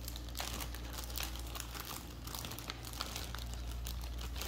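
Plastic sachets from a diamond painting kit crinkle and crackle close up, a steady run of rustling handling noises with no talk.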